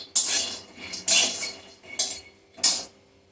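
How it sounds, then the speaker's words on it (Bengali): Peanuts are dry-roasted in a pan on low heat, stirred in four distinct scraping, rattling bursts at an even pace, close and crisp with brief pauses of near quiet between each stroke. "হিটটা একদম কমিয়ে শুকনো খোলায় বাদামটা ভেজে তুলে নিচ্ছি"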